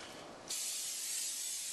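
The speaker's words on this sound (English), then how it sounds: "give this a little spray on the bottom" Cooking spray hisses onto the bottom of a baking pan in one short, close burst after a brief quiet moment.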